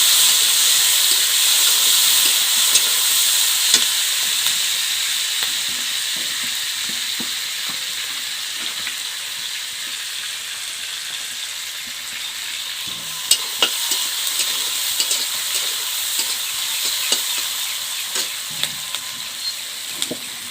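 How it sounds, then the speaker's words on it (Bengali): Onions and small pieces of bay leaf fry in hot oil with panch phoron for a Bengali fish curry, giving a steady, loud sizzle with occasional stirring clicks throughout. "পেঁয়াজ আর ছোট সাইজে তেজপাতা দিলাম। এখন পেঁয়াজটাকে ভালোভাবে ভেজে নেব।"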